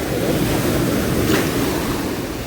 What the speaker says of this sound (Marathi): लाटा आता भरपूर येत चालत भावानो